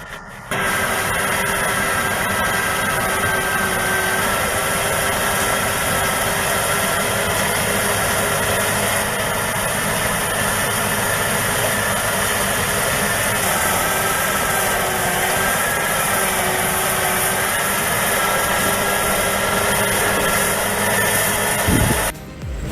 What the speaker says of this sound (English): This setup pairs a high-horsepower John Deere tractor with an Overossen snowblower.